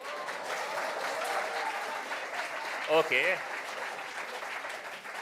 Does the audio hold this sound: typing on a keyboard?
no